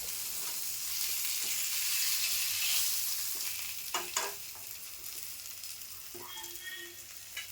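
Whole kharba fish and mackerel fry in a hot pan, a steady broad sizzle that swells and then eases, with a few sharp spatula scrapes and clinks against the pan near the end.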